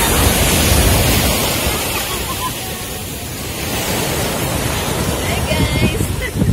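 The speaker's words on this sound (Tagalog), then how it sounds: "Laksa ng alon." Ocean waves wash onto a beach at five in the morning, a loud continuous roaring surf with wind rushing across the microphone, no voices.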